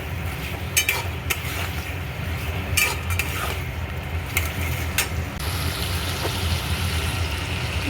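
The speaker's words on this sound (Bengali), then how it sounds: "ভেজে রাখা আলুগুলো দিয়ে ওখানে একটু ভালো করে" Fried potatoes are stirred through a spice masala in a hot pan, with continuous sizzling and sharp metallic scrapes and clinks of the spoon against the pan at irregular intervals, close by and without speech.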